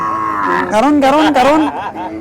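A water buffalo lows loudly and close by at a livestock stockyard, one long wavering moo that swells in the middle and trails off.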